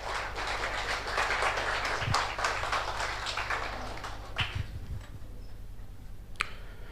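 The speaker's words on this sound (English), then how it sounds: "Please give him a round of applause." Audience applause for Father Provincial, Fr Gildasio Mendes, at a vocal concert and felicitation, a dense spell of clapping that thins out after about four seconds, leaving scattered taps and quiet room sound.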